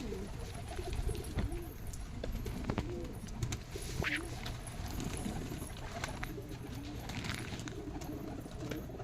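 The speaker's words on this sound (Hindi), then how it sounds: "अभी हमारे कबूतर दिखाओ सोहेल भाई।" Pigeons coo softly and repeatedly amid a busy, noisy background with scattered knocks and rustles, the low burbling calls continuing throughout.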